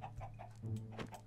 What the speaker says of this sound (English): Two chickens are in there now.